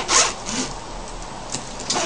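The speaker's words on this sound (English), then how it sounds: "So just press enough for the pen to go through the zipper and just slide it all around." A ballpoint pen is pushed through the teeth of a luggage zipper and slid along it, giving a close, continuous raspy zipping sound with a few brief louder swells and no talking.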